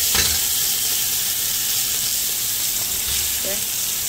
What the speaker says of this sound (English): So once your oil is heated, I just added my fresh garlic and fresh chopped parsley. You're going to allow this to fry for a minute or two.